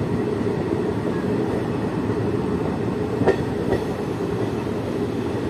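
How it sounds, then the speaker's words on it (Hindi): The Jogbani to Saharsa Intercity Express pulls into Lalitgram station, heard from on board as a steady loud rumble of wheels and carriage noise with a couple of brief metallic clicks near the end. "तो ललित ग्राम पहुंच रही है दोस्तों अपनी ट्रेन।"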